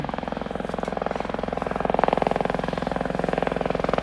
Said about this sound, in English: So there's the helicopter again.